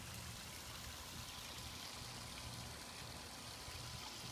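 Water trickles steadily and faintly over river rock in a newly finished backyard pond beside a flagstone walkway in Wilmington, North Carolina. The sound is a soft, unbroken outdoor wash with no voices.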